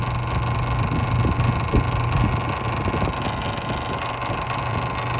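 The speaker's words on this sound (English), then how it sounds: "that noise is coming from this part right here" A transformer in a refrigeration unit keeps running with the compressor disconnected and gives off a loud, continuous low hum and buzz mixed with broadband noise. It is steady and close, and no one talks over it.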